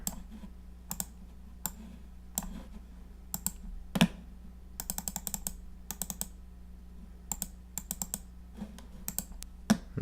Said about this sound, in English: And then I can just type out my info here.